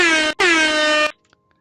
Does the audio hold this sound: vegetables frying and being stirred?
no